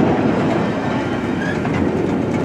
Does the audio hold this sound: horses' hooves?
no